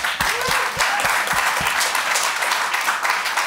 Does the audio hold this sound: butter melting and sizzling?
no